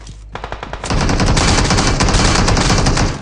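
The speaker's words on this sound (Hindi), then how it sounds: "ये बंदे हम पे फायरिंग करना शुरू कर देते हैं।" Automatic gunfire in the BGMI battle royale mobile game, sparse shots at first, then a loud sustained burst of rapid fire that runs continuously to the end.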